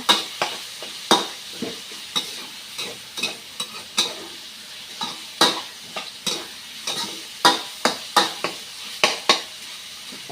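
Sharp, irregular scraping and clattering of a utensil stir-frying pork with cucumber in a hot pan over a steady sizzle, close and fairly loud, with no voices.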